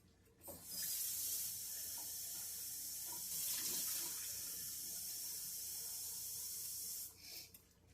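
A kitchen tap runs into a glass as a cooking host gets a drink of water, turning on with a hiss, flowing steadily for several seconds, then shutting off, fairly close and with no talk.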